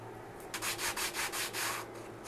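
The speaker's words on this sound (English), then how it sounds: "This side has a little bit, but very easy to take off with a piece of sandpaper." Sandpaper rubbing fuzz off a birch plywood snowflake cut on a Sainsmart ProVer V2 CNC router, about seven quick back-and-forth strokes, close and fairly clear over a quiet low hum.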